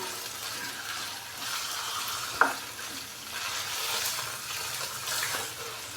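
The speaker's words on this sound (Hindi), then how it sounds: "चिकन को अच्छे से करेंगे मिक्स और हल्का सा हम फ्राई कर लेंगे तकरीबन 3 से 4 मिनट के लिए" Curry-cut chicken pieces fry and get stirred in a pan, giving a soft continuous sizzle with scraping stir sounds and one sharp clink partway through.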